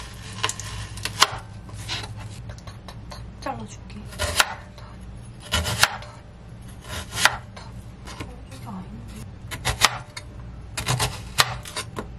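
Knife cutting food on a cutting board, irregular bursts of sharp close chops separated by pauses, with faint kitchen background noise.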